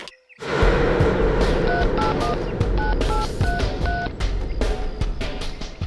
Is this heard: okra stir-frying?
no